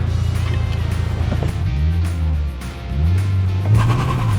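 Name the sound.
Subaru BRZ car engine while driving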